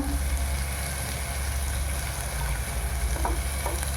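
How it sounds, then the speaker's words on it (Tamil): Green chillies and salt frying in a pan for rava upma, a steady close sizzle with soft stirring scrapes toward the end, no talking. "பச்சை மிளகா நல்லா வதக்கி போட்டுக்கலாம்."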